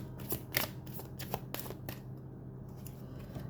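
Tarot cards are shuffled by hand, a series of quick papery riffles and flicks close by, fairly soft, with no speech.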